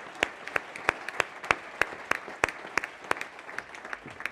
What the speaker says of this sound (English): So a big round of applause to World Climate Summit team.